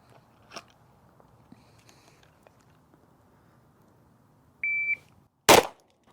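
A pistol is fired at a target at a shooting range: one sharp, loud crack rings out just after a short electronic timer beep, with quiet background before it.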